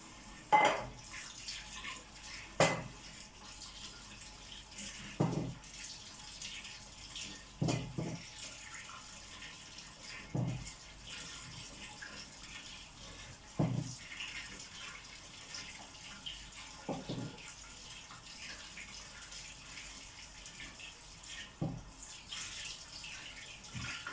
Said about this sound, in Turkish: patatesleri yıkadım